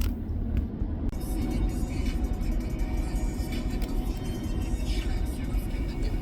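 A car drives a highway heading north out of Santa Fe, New Mexico, through open hill country, giving a steady, loud road rumble and tire roar throughout with no pauses.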